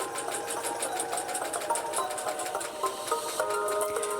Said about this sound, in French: je vais coudre, toujours à l'aide de ma machine à coudre